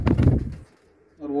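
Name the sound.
blue satinette pigeon cooing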